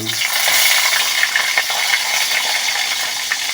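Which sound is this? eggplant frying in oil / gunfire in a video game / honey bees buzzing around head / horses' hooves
eggplant frying in oil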